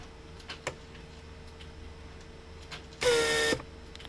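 On a Mercedes W140, the door lock pump gives a short, loud buzzing hum of about half a second as the car unlocks, after faint ticks and clicks in a quiet cabin.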